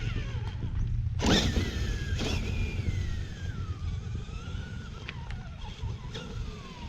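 Small Cobra Kai SMT10 RC monster truck electric motor whining and rising under hard throttle, a steady buzzing drone with brief louder bursts, fairly close and alone.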